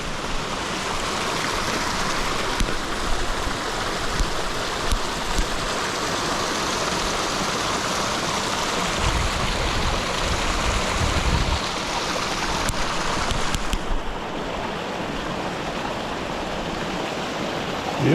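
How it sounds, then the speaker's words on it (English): Waterfall near Heather Lake in the Desolation Wilderness, a steady broadband rush of falling water close by, loud and continuous throughout with no voices over it. "But this is the waterfall."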